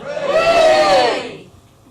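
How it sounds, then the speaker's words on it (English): A comedy club audience cheering in a single short burst of mixed voices that swells and fades within about a second and a half. "That's a positive cheer."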